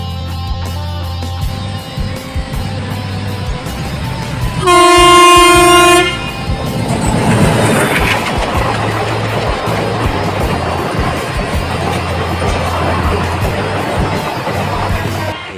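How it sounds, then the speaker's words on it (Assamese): A train passes near Nakkati Hill in Bongaigaon, its horn blaring loudly for a second or two before the rumble and clatter of rolling wagons fill the rest of the passage, close and loud. "এই চাওক ট্ৰেইন আহি আছে"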